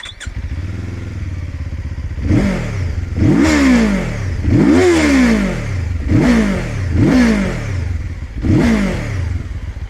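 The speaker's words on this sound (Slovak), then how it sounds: "Môžete počuť to, čo som spomínal, motor výrazne podštvorcový, hladný po otáčkach a s takým športovejším charakterom" A QJMotor SRT 450 RX motorcycle engine starts and is revved repeatedly in sharp bursts, each rev climbing and falling back to idle, loud and close.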